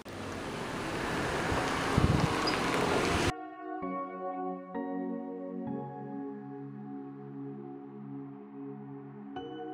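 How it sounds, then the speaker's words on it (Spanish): A gentle outdoor breeze rushes and buffets the microphone for the first few seconds as Hurricane Dorian fails to arrive, then cuts abruptly to quiet sustained musical tones. "No está haciendo una ventolera fuerte, es una brisa bastante suavecita"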